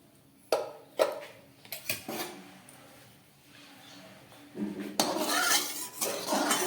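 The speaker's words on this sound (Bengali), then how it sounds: "একটা কড়াই বসিয়ে দিয়ে তাতে সাদা তেল দিয়ে দিলাম।" A kadai clanks onto a gas stove in a home kitchen with a couple of sharp metallic knocks, followed by a soft pour of white cooking oil and a rising hiss.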